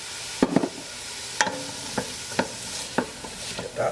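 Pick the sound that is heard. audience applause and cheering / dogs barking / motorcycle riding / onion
onion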